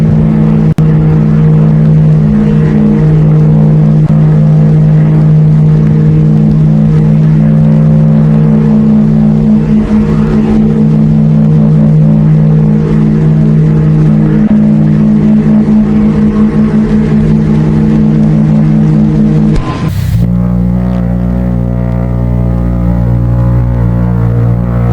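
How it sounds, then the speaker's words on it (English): An Olympic class liner's steam whistles, first the old triple barrel whistle and then a newly installed Typhoon whistle. A loud sustained tonal blast holds steady for about twenty seconds, then cuts to a deeper, rougher tone. "Here is the sound of her previous triple barrel steam whistle and her newly"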